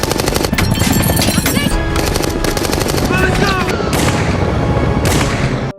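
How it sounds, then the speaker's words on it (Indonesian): Rapid bursts of machine-gun fire rattle loudly and continuously in the film Avatar, with booms and ricochet-like whines layered in a dense battle soundtrack. "Kolonel melihatnya dan langsung keluar menembaki mereka."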